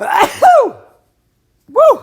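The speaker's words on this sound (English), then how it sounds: "That's what happens when someone sneezes." One person sneezes sharply during a math lesson, a short loud burst followed by a vocal exclamation, then silence and a second brief voiced outburst.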